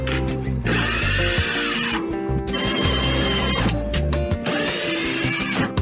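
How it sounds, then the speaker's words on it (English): A drill bores holes into wooden pallet boards in three separate close, loud bursts of whining, with short pauses between them. "I'm getting ready to drill my palette holes"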